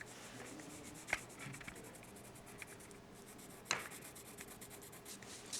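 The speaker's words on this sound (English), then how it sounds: "if I shade it with pencil in the in-between spaces" Pencil shading on paper gives a soft, steady scratchy rub close by, with a couple of sharper taps or strokes standing out over the continuous hiss.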